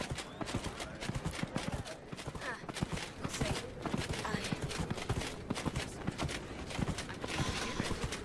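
Horse hooves clip-clop steadily in the video game Dragon Age Inquisition, a fast, even gallop rhythm that runs the whole time with someone talking over it.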